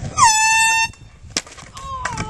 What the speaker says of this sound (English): Hidden foghorn.